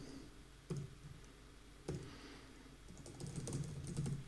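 Computer keyboard typing while filling in a sign-up form, a few isolated key clicks followed by a faster burst of close, light tapping near the end.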